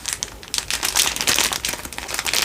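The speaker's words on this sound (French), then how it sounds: "je vais décoller l'adhésif" Adhesive tape is peeled slowly off skin during a French ASMR personal-attention session, making close, crisp crinkling and ripping bursts in an uneven stream.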